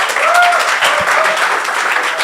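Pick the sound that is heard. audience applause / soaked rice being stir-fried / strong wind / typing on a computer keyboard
audience applause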